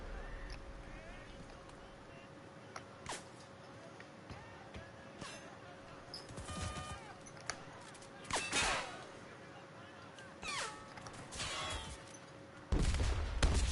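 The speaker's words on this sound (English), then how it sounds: "Just doing some sniping here" Sniper rifle shots in the WWII shooter Enlisted, a few sharp cracks spaced several seconds apart over a steady hum of game ambience, ending in a louder burst of noise.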